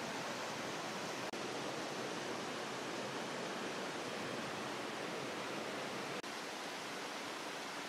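Oshidori Kakushi waterfall at the entrance of the Okutateshina hot spring area, water cascading down in steps, heard as a constant, even, fairly soft hiss of falling water with no voices.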